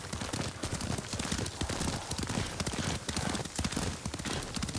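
Horse hooves clip-clop steadily at a riding pace in Ghost of Tsushima, a dense, rapid rhythm of hoofbeats over constant outdoor ambience, close and continuous with no voices.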